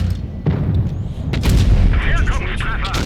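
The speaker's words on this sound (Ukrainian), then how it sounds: "Стрілюють цю позицію" Tank cannon fire and explosions from the World of Tanks Blitz video game, with the Rhm.-Borsig Waffenträger in battle: several heavy booms and rumbling blasts over continuous battle noise, loud and close.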